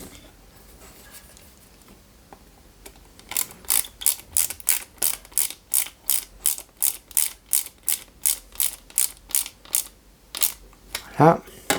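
A screwdriver drives a screw into a 1/8-scale Citroen C4 WRC 2008 model car, making a steady series of close, sharp ratcheting clicks after a quiet start, ending with a brief rustle.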